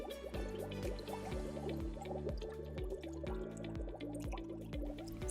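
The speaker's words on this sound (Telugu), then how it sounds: "గాలి బుడగలు శబ్దంతో వస్తుంటాయి" Air bubbles gurgle up out of a tilted glass bottle held upside down in water, a steady run of repeated low glugging pulses, close and continuous.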